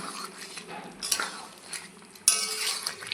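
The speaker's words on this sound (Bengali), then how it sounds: "এইভাবে ভালো করে কষিয়ে নেব" Chicken and potatoes being stir-fried in a pot, with a spoon scraping and clinking against the metal in uneven strokes, louder bursts near the start and end, close and with no talk.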